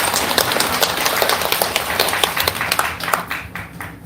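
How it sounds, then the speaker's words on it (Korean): Audience applause after a Buddhist winter solstice Dharma talk, steady dense clapping throughout, fairly loud and close, thinning out slightly toward the end. "박수 한번 부탁드립니다"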